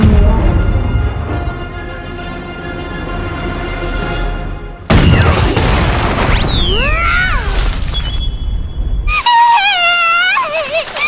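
Artillery fire and explosions in a war scene: a dense rumbling barrage of booms for five seconds, then sharp bursts, whistling, and wailing tones over heavy low roar, loud and close.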